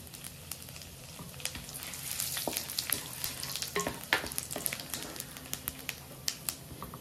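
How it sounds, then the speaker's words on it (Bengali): Whole cumin, bay leaf, dry red chilli, cinnamon, clove and cardamom crackle in hot ghee, a dense steady sizzle with scattered sharp pops and a few spoon scrapes, fairly close. "এবার আমি ফোড়নগুলো দিয়ে দিচ্ছি, যেটার মধ্যে আছে জিরে, তেজপাতা, শুকনো লঙ্কা, দারচিনি, লবঙ্গ, এলাচ"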